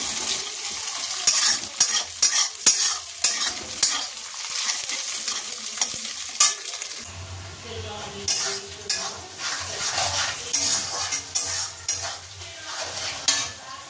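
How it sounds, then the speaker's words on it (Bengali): Leftover chow mein frying with egg in a pan, a steady sizzle broken by repeated scraping and stirring strokes of a utensil against the metal, close and fairly loud with no talk. "তো একটু ডিম দিয়ে ফ্রাই করে দিচ্ছি"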